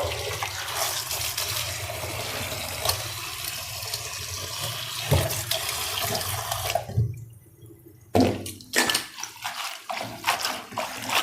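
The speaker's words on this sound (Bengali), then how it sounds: "এই যে শাকটা একবার ধুয়ে নিয়েছি আরও দু একবার ধুবো" Leafy greens for a village-style lentil dish are washed under running water, a continuous loud splashing stream that cuts out briefly and then returns in choppier bursts.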